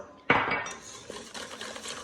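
Melted butter is stirred into a dessert batter in a bowl, opening with a sharp clink of utensil against the bowl, then a run of scraping and light clattering strokes close by.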